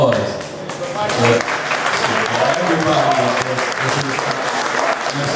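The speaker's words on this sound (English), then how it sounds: "Can we get a round of applause?" Audience at a hip-hop showcase in Maryland breaks into loud, sustained applause and cheering that fills the whole stretch, with voices shouting through the crowd noise.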